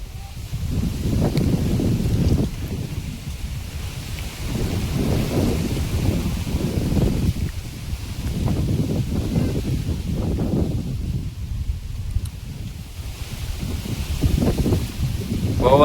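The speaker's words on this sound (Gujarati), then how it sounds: "પવન છે, પવન એ બહુ છે." Strong wind roars through a jamun tree in deep, gusting rumbles that swell and ease over about sixteen seconds, loud and buffeting close to the microphone.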